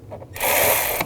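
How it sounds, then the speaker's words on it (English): Ratchet fitted with an 8mm socket loosening a bolt on a 2003-06 GMC Yukon; one short burst of rapid close clicking lasting under a second, loud and alone. "Take this cover off, you just use a 8mm socket."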